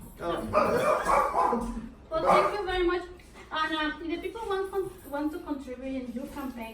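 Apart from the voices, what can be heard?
dog barking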